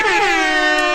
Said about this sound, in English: Give me some air horns.